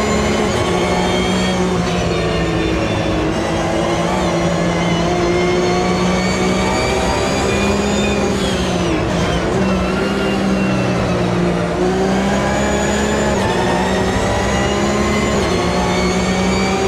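Race car engines in the Automobilista 2 racing game roar steadily at high revs, with a loud sustained whine as another car overtakes at great speed, continuous throughout with no talk.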